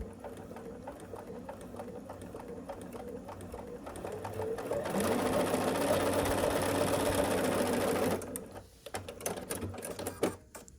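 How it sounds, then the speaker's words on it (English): A sewing machine stitches a quilt block in one steady run of several seconds, starting up from quieter handling sounds and stopping abruptly, followed by faint fabric rustling. "We're matching up the bottom corner and then the sides, and we'll sew this."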